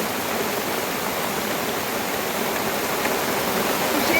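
Heavy downpour outdoors, a continuous close roar of falling water that holds level throughout, with a faint tonal sound briefly near the end.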